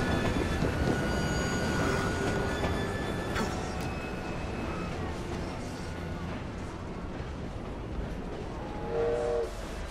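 Train rolling past in Assassin's Creed Syndicate, a steady rumbling wash of rail noise that swells and stays dense throughout, with a brief whistle-like tone near the end.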